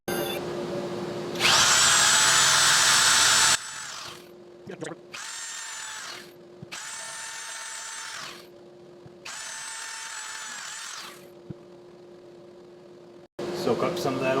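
Power drill fitted with a twist drill bit boring into pipe, loud high whine in several bursts of about two seconds each, separated by short pauses, with a steady lower hum running beneath.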